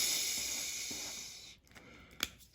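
A voice imitates the hiss of a firecracker fuse burning, a steady breathy hiss held for about a second and a half before breaking off into a few short, fainter puffs.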